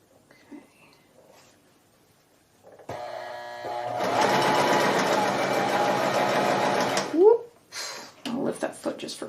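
A sewing machine runs steadily for several seconds while stitching a quilt test block, with a close, continuous mechanical whir. It starts after a quiet pause, then stops, and soft handling noises follow.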